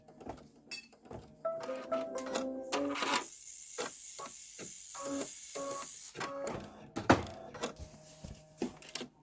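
Spray adhesive hisses from a can onto the back of white-on-white herringbone fabric in one steady burst of a few seconds, preceded and followed by light rustling and handling clicks of the fabric and tools.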